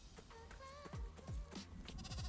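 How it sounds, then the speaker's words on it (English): A baby goat in the Rising World video game bleats in a series of short, quavering cries that repeat every half second or so, fairly close and clear. "Baby goat."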